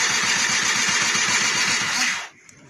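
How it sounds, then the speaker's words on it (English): A 1999 SYM Jet 50cc scooter cranking on its electric starter, a steady rapid churning whir with a fast pulsing beat that runs for about two seconds, then cuts off abruptly without catching. "I'm going to try it with the electric start"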